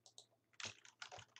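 Quick, light keystrokes on a computer keyboard, a short close burst of irregular clicks with no talk.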